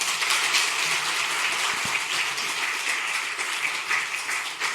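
Applause fills a church congregation, a dense, steady clatter of many hands clapping together at moderate loudness for the whole stretch, without voices.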